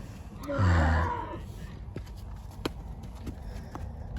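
A buckskin Appaloosa horse moves loose in a round pen, giving a brief breathy vocal sound followed by scattered soft hoof knocks on the ground, fairly close.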